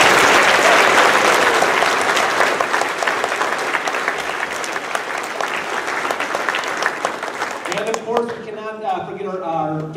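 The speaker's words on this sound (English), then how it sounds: "So let's give them another round of applause." Audience applause after a school play, a dense, loud burst of clapping that runs steadily and fades near the end, where a voice speaks.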